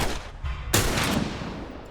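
A single sharp gunshot in The Last of Us, loud and close, cracking out after a brief lull and leaving a long rumbling tail.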